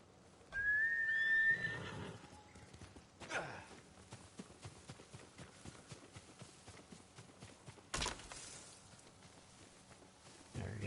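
A horse in the video game Ghost of Tsushima whinnies once with a high, clear neigh near the start, followed by steady hoof clip-clops and a couple of brief rustling bursts.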